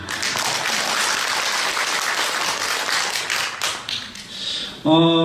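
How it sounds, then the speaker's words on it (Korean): A forum audience gives a round of applause, a loud, dense, continuous clapping that tapers slightly before a voice begins speaking at the very end. "박수 한번 부탁드리겠습니다"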